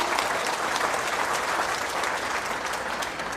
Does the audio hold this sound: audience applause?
yes